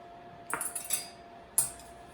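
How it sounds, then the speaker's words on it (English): A whisk strikes the side of a bowl as sugar goes into eggs for crème brûlée, giving a few sharp metallic clinks and short scraping taps, fairly close and clear over quiet room tone. "we're going to add the sugar into the eggs and whisk it."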